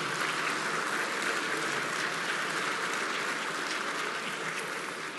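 Applause fills the National Congress chamber, steady, dense clapping from a large crowd that holds at an even level throughout, with no voices over it.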